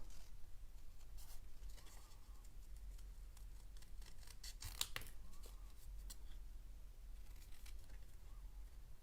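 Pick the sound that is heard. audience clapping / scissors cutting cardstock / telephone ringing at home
scissors cutting cardstock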